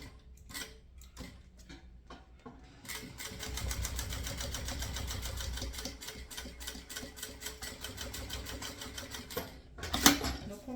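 A sewing machine stitches a thermal bottle bag in a fast, even run of mechanical clatter after a few slower starting stitches. Someone talks quietly over it.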